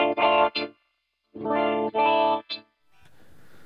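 A voice run through a guitar-controlled vocoder comes out as harmonized, buzzing chord tones, a sad-robot sound in three or four bursts separated by silences, followed by a faint trailing hiss.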